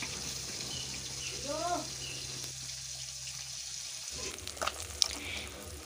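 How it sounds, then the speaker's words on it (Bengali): Chanda hilsa fish fry in hot oil with a continuous soft sizzle, joined by brief stirring, a stretch of running water and a few clinks nearby, all at low volume. "মাছটা ভাজা হতে থাক"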